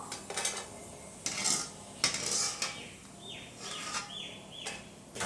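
Fried bitter gourd chips being lifted out of a pan of hot oil with a metal utensil, giving light clinks and scraping clatter with faint crackling, close and without talk.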